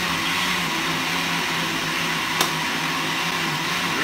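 A kitchen blender runs with a steady, even mechanical whir at moderate distance, mixing ingredients for ackee and string bean punch, with one brief sharp tick partway through.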